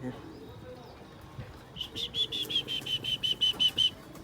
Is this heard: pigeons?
yes